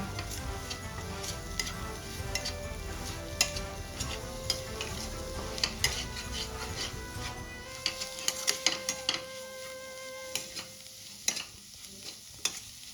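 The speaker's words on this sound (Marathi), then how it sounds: "आता हे सर्व साहित्य एकदा एकत्र करून घेऊया" A spoon stirs and scrapes a spice mixture of cumin powder, garam masala, red chili powder and salt for a paneer filling, with irregular clicks and taps against the bowl, quiet and close, no talking.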